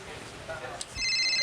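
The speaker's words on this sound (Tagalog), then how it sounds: "Nagring na po ning cellphone na ni." Cellphone ringing in a mansion while coffee is being enjoyed, a steady tonal ringtone starting partway through and holding loud to the end, with talk around it.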